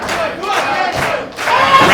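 A wrestling crowd at a Limitless Wrestling event roars and chants in loud rhythmic surges, a dense wall of voices swelling and dipping several times at close range.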